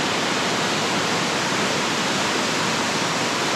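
Loud, steady roar of a gushing waterfall plunging over a big drop in the North Cascades mountains, a dense unbroken rush of water filling the whole stretch with no voices.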